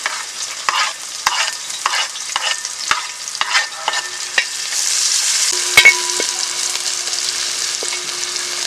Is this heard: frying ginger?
yes